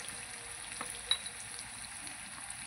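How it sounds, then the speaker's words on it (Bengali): Potatoes frying in a pan, a soft steady sizzle at low volume with a couple of small crackles and pops, no voices over it. "আলুটাও আমি লাল লাল করে ভেজে নেব"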